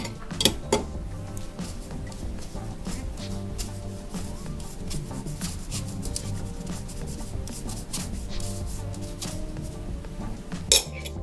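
Lumpy flour mixture for a steamed chocolate cake being pushed through a metal sieve, a steady scraping and rubbing with light clinks of utensil against mesh and bowl, close and continuous, with no talking.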